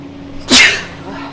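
A single loud, close sneeze bursts out sharply and fades within a fraction of a second, with a quiet room hum before and after.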